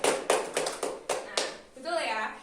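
Students in a classroom clap for a classmate in a short burst of uneven, close claps that fade out. A voice follows at the end.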